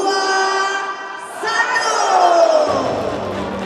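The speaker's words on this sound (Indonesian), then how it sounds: "sekali lagi kita berikan tepuk tangan yang sangat meriah" At the closing ceremony of the 2024 PKB Muktamar (national congress), a large crowd cheers and shouts loudly, with a brief dip before the voices rise again in a sustained, swelling roar.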